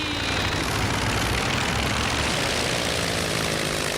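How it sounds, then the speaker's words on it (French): Cartoon aircraft with propeller engine roaring steadily through takeoff, a loud continuous drone filling the clip with no voices. "Vous êtes prêts pour le décollage? Oui! C'est parti!"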